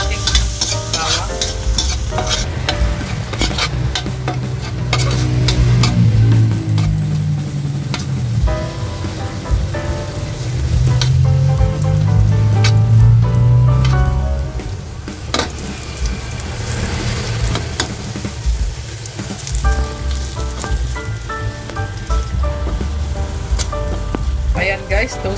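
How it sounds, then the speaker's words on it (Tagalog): Garlic toasts in margarine in a pan for an adobong kangkong dish, giving a steady close sizzle with stirring scrapes that swell at intervals, while music and voices sit underneath throughout. "Tostahin lang natin guys itong ating bawang."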